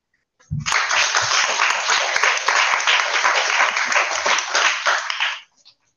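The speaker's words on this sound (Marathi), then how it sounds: "मुलींसाठी जोरदार टाळ्या वाजवा." Children applaud the girls in a classroom, a dense burst of loud clapping that swells quickly, holds steady for about five seconds, then stops abruptly.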